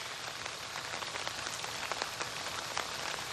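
Steady rain falls on a golf course during the BMW Championship round, a dense even hiss of drops striking the ground with scattered sharper taps, close and continuous with no voices.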